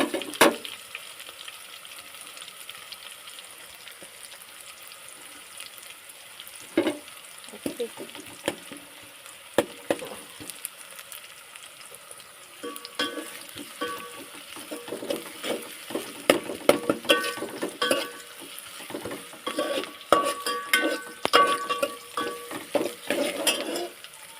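Curry leaves crackle and sizzle in hot oil for a guar bean curry, a steady frying hiss broken by sharp pops that grow denser and louder in the second half, with occasional clinks of utensils.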